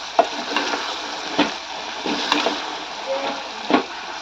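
Tomatoes hit hot tempering oil in a pan and are stirred, giving a low sizzle broken by several scraping, clattering stirs at irregular intervals.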